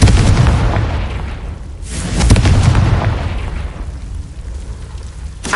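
A Confringo spell in Hogwarts Legacy goes off as a deep, rumbling explosion, with a second boom swelling midway before a long decaying roar.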